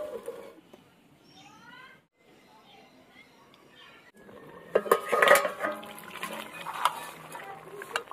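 A metal lid clatters onto a pot of simmering chicken curry with kohlrabi, giving loud close clanks and scrapes in the second half, after softer kitchen rustling while a voice talks over it.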